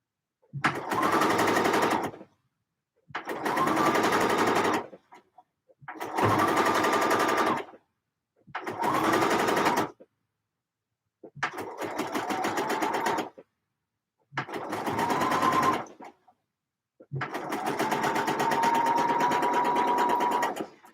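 Sewing machine binding the edges of a pleated and gathered skirt, running in seven steady stitching bursts of a couple of seconds each with brief pauses between, close and fairly loud, no talk.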